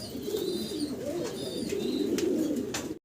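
Running homer pigeons coo in low, repeated rolling calls close by, continuous and overlapping, with a few faint chirps above and no speech.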